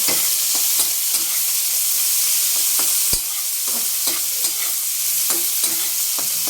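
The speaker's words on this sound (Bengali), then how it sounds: "বেশি ভাজা ভাজা করবো না, হালকা একটু নেড়ে চেড়ে একটু খালি মিশিয়ে নিব।" Spices and chopped onion stirred in a hot pan, with a loud steady sizzle broken by repeated scraping knocks of the spoon and one sharp clack midway, no voices.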